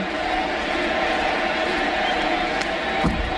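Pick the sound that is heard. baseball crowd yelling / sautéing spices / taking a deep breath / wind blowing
baseball crowd yelling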